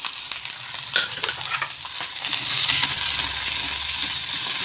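Onion, green chili and garlic sizzling in a pan for an onion-tomato roast curry, with quick clinking, scraping stirs at first, then a louder, denser frying hiss once the ingredients hit the oil, up close and without talk.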